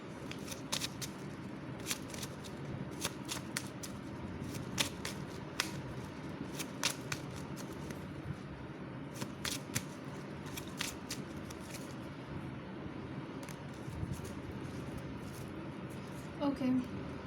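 Tarot cards are shuffled quietly and close, with soft repeated flicks and riffles over a low room hum. A brief rustle comes near the end.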